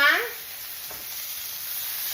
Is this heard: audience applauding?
no